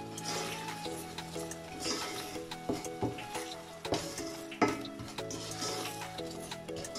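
Sugar melts and cooks with mango in a pan over a low flame, giving a soft, steady sizzle with faint ticks and a low hum of background noise throughout.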